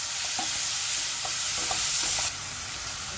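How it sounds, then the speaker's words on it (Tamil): Chopped tomatoes mixed into frying chicken gravy, a loud, even sizzle with light intermittent stirring taps that drops a little in level near the end, heard close with no talk. "தக்காளி ஆட் பண்ணிடலாம் நல்லா மிக்ஸ் பண்ணுங்கள்"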